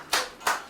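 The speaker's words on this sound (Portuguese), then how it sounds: "cadê o aplauso aí?" Two crisp hand claps spaced apart, close and moderately loud over a faint background hum, with no voices.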